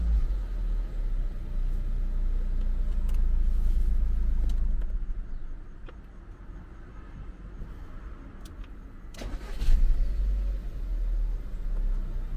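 A car engine is switched off and started again during a battery check. A low idling rumble fades to a quieter lull, then swells again with a brief louder burst as the engine catches.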